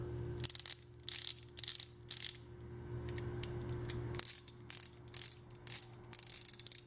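An old Firestone ratchet from the USA, cleaned up, clicked by hand in several short bursts of rapid metallic pawl clicks separated by brief pauses, close and fairly quiet.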